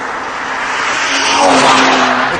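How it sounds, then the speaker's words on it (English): A 6-litre V12 Ferrari 612 Scaglietti passes with a loud, smooth engine roar and broadband rushing noise that swells toward the middle, with no talk. "This is the Ferrari 612 Scaglietti. That's 6 litres, 12 cylinders"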